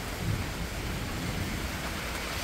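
Heavy rain pours down during a thunderstorm outdoors, a dense, steady wash of hiss with low rumbling underneath, constant throughout with no voices.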